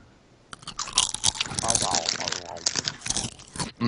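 Sun Chips crunched between the teeth while eating, a rapid run of crisp, close bites and chewing crackles with voices talking over them.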